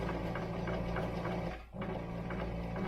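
A sewing machine top stitches the edge of a fabric dice bag, its rapid even needle chatter running steadily up close and pausing briefly partway through before carrying on.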